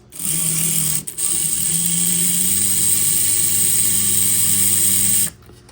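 Front motor of an HO scale KMT E8/9 model locomotive running with a steady, loud whirring hum whose pitch shifts slightly, cutting out briefly once before stopping.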